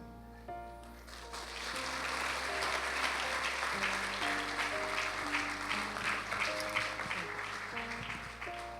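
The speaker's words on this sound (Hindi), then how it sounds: "जोरदार तालियां" A church congregation applauding, broad clapping that swells in and holds steady for several seconds over sustained organ-like music tones, fairly faint and distant.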